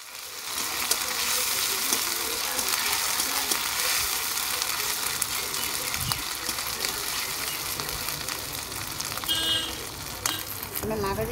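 Ginger paste sizzling steadily as it fries in a pan of oil while cooking a fish curry with potato and eggplant, a continuous close hiss throughout.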